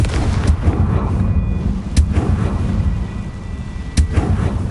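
Booming Confringo spell blasts in the Hogwarts Legacy video game, with sharp cracks near 2 and 4 seconds over a dense, rumbling battle roar and no voices.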